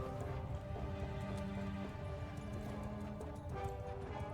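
Many cavalry horses' hooves clatter in a dense, continuous gallop in a samurai strategy video game, with a steady musical drone running underneath.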